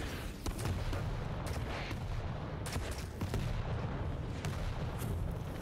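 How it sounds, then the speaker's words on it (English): Rockets fire repeatedly during a Quake World Championships 1v1 duel, booming launches and blasts packed close together in a loud, continuous barrage. "More rockets coming out though."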